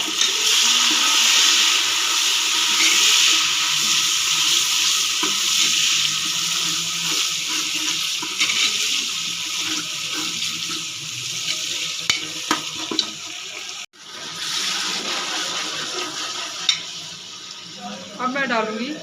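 Garlic ginger paste frying in a pot for chana pulao gives a steady loud hissing sizzle that runs throughout, with brief stirring scrapes and a momentary dip near the middle.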